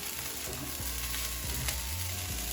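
Fried rice with spring onions and butter is stir-fried, a dense, even hiss of frying with soft scraping and rattling from the stirring, and a low hum running underneath.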